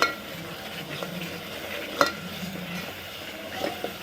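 Spiced masala for mutton curry fries in a pan, giving a steady close sizzle under stirring scrapes, broken by a few sharp clinks of the spoon against the metal.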